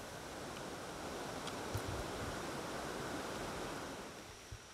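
Constant broad rush of flowing river water, steady and fairly close, with no voices.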